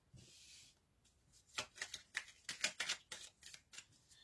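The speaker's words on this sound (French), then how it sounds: "je tire toutes les cartes." A deck of oracle cards is shuffled by hand, a quick run of crisp riffling snaps and flutters, close and quiet, with no talking.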